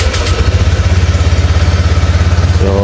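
A Honda Click scooter engine idles steadily right after starting, a close, even low putter with a fast regular pulse and light mechanical clatter, alone with no talk.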